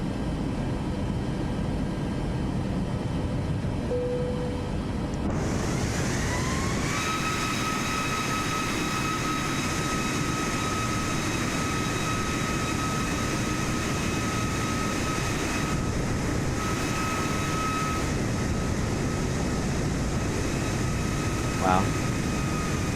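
A plane climbs out after departure in Microsoft Flight Simulator 2024, its steady engine roar rising in pitch as power comes up. A pilot's voice talks over the continuous drone.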